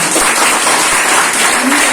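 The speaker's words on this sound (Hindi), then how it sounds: "ताली बजना चाहिए नहीं बजना चाहिए?" An audience at a sales seminar claps in a dense, loud burst that carries on steadily for about two seconds.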